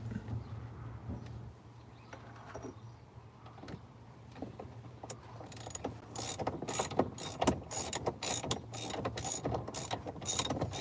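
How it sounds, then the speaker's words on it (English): A hand ratchet turning a 19 millimeter socket on a bolt, rapid close clicking bursts that grow denser and louder in the second half after a quiet start, with no talking. "And I got a ratchet."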